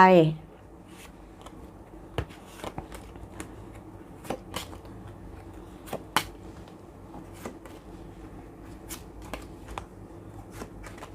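Tarot cards are handled and shuffled before ten are drawn: scattered soft clicks and sharper card snaps at an uneven pace over a low, steady background, with a brief voice at the start.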